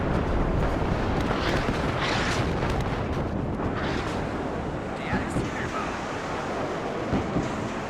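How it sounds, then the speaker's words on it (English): Artillery and rocket barrages landing in the WARNO war game, a continuous heavy rumble of distant explosions rolling like surf, fairly steady throughout with no clear separate blasts. "As the extra artillery now comes in."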